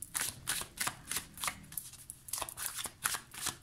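Tarot cards from an Arcanum Tarot deck being shuffled, a run of close, crisp riffling bursts repeating in an uneven rhythm with brief pauses between them, heard alone without talk.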